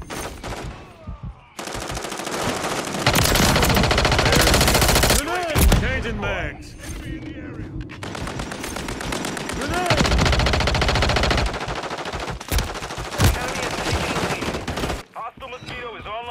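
Rapid, sustained submachine gun bursts in the Modern Warfare 3 video game, loud and close, with dense overlapping shots and brief pauses between volleys.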